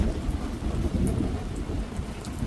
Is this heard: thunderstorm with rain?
yes